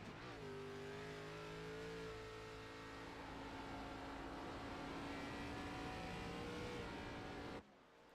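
A race car engine in iRacing at Watkins Glen accelerates hard, its loud revving tone climbing and holding steady for about seven seconds before cutting off abruptly, with no talk.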